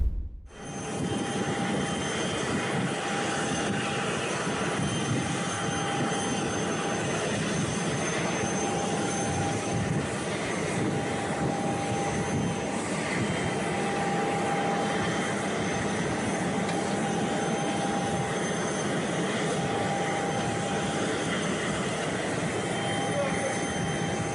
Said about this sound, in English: you will see Elizabeth Warren descending from the steps of a private jet, a chartered jet